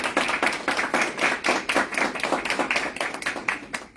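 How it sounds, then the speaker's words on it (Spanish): Clapping from an audience at a talk by Central American justice operators in exile, a steady run of fairly loud, closely spaced handclaps with rhythmic pulses, no voices over it. "quiero un aplauso para ellos"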